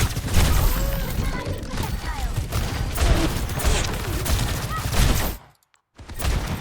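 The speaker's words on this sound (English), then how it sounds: "those 4 shots from the Ashe, that's huge" Ashe's rifle firing in Overwatch, a rapid burst of shots within dense game combat noise, layered with other effects and crashes before a brief drop to near silence.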